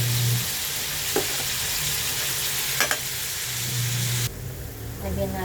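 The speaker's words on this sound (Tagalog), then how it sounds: "Iprito lang." Shrimp fry in a pan with a steady, close sizzle and a few sharp clicks of stirring, the crackle easing briefly near the end.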